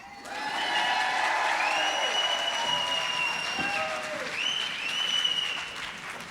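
A plenary audience at a women's rights conference applauds the introduction of a U.S. senator, sustained crowd clapping with rising whoops and whistle-like cheers sweeping over it.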